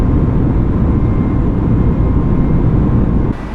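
Airliner engines of a China Eastern A32NX at climb thrust in Microsoft Flight Simulator, a loud, steady broadband roar with a constant low drone, holding unchanged until a slight drop near the end, with no voices.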